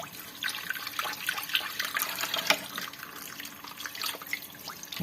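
Hot water streams from a tap into a kitchen sink being unclogged, a steady close splashing with scattered drips and gurgles throughout.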